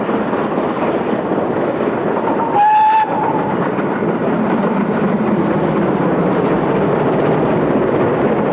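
A GWR Manor class steam locomotive, Hinton Manor, runs past with a steady rolling rumble of wheels and carriages, broken by a short whistle blast near the start.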